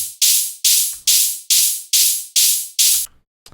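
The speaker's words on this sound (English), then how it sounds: "AU Matrix reverb on there, and then I put this LFO tool." Synthesized tearout dubstep noise treated with AU Matrix reverb and LFO Tool pumps in seven rhythmic hissing bursts that swell and cut off sharply, ending in near silence.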